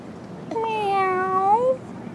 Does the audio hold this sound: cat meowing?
yes